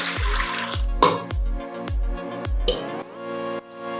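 Water from a tap pours in repeated short splashes into a pressure cooker while preparing raw mangoes, with bright metallic ringing and resonant tones and no speech.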